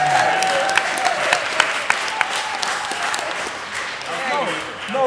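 A workshop audience at a performing arts conference claps together on a second attempt, a sustained wash of applause with a few sharper individual claps standing out, alone without talk.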